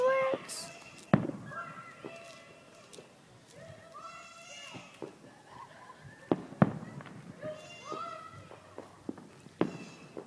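New Year fireworks outdoors, with scattered sharp bangs and crackles at a moderate distance, while people and children talk and chatter throughout.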